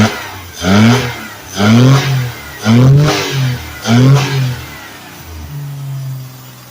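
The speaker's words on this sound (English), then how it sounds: "This is loud and annoying. Nobody wants to hear all that mess, but we got a running car now." An old car engine, just brought back to running, revs loudly in four strong, evenly spaced bursts close by, then settles into a steady idle, with no talking.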